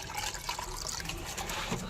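Water poured onto rice in a pot while cooking chicken biryani in a village kitchen, a short close splashing and trickling stream with faint background noise.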